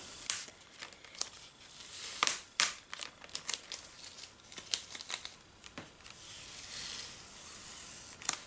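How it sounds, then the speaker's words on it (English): Vinyl stencil peeled slowly off a wooden egg basket, close, quiet crackling and sticky ripping bursts in an irregular series of sharp peeling snaps. "So I'm just going to peel this off and see what we got."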